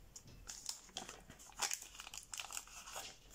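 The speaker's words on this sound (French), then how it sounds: "on va faire un pli inversé intérieur" Origami paper being creased and folded into an inside reverse fold, with faint, close crinkling and soft crisp rustles coming in small irregular bursts.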